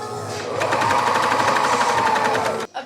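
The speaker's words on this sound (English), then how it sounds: "So I'm gonna pin these together and then serge." A serger sewing pinned fabric pieces together runs steadily at high speed, a loud, close, continuous mechanical hum and rapid stitching rattle that stops abruptly near the end.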